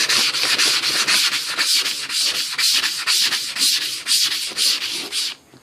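A wooden clock being hand-sanded with 220 grit sandpaper, a steady rhythmic scratching of back-and-forth strokes, close and loud, continuing for several seconds before stopping abruptly.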